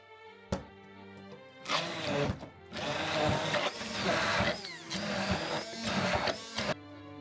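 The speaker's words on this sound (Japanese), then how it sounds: "あとはブレンダーやミキサーで滑らかにするだけです。" A blender whirs in several bursts, starting and stopping with a loud motor whine and churning texture, close up with short pauses between runs.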